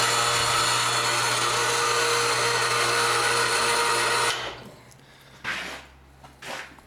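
A homemade freight elevator in a pole barn runs with a loud, steady motor drone for about four seconds, then cuts off, leaving a few faint knocks and rattles.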